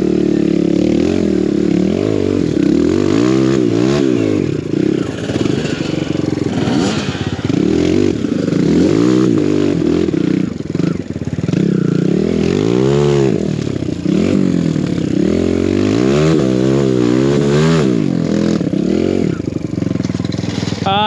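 Enduro dirt bike revving hard on a hill climb, a loud, close engine rising and falling in repeated throttle surges, with clattering and scraping from the rough ground.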